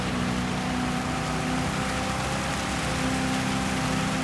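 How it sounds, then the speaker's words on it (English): Steady rain hiss on the track at Le Sarthe in a Gran Turismo 7 race, a dense continuous wash of noise with a low engine drone underneath, loud and unbroken throughout. "this rain's going to end"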